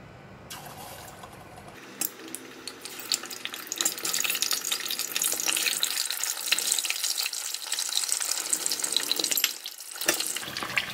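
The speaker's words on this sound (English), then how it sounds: "Just need to fry the egg until golden brown." Peeled boiled eggs drop into hot oil and begin frying, a sudden sizzle that swells into a continuous crackling hiss with bright pops, dipping briefly before flaring again near the end.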